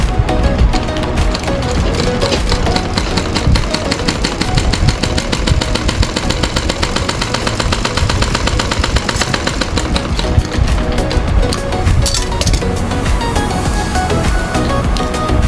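Sewing machine stitching a blouse, a loud, close, rapid mechanical clatter running almost continuously with a fast regular rhythm and slight variations in pace.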